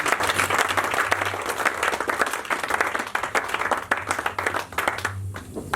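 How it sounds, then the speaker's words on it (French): A church congregation applauding and clapping, with dense, sustained applause that fills the space from start to finish and thins briefly near the end. "Acclame Jésus, acclame les Seigneur."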